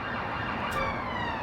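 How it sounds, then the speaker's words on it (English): Ambulance siren wailing loudly and continuously nearby, its rising and falling tone layered over road traffic noise. No talking. "There's been 2 ambulances, man."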